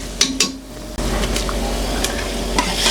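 Chopped tomatoes drop into softened onions sautéing in a pan, with a couple of clinks, then a louder burst of steady sizzling and spatula scraping, close and continuous.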